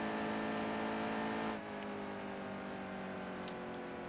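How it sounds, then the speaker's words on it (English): Race car engine in the NASCAR Heat 2 video game, a steady droning harmonic whine held at constant pitch, with a slight drop in tone partway through as the camera view shifts. "listen to the engine sounds"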